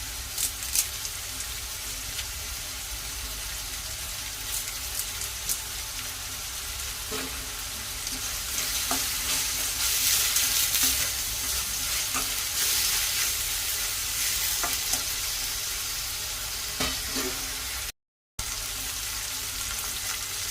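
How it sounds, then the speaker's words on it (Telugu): Ginger, garlic, black pepper, two green chillies and curry leaves fry in a pan for Andhra mutton curry, with a steady sizzle under repeated stirring scrapes and clatter. There is a brief gap near the end. "ఇప్పుడు మనం అల్లం, ఎల్లిగడ్డ, మిరియాలు, 2 పచ్చిమిర్చి వేసి వేయించుకున్నాం కదండి"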